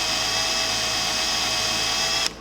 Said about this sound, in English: that had to be drilled at an extreme angle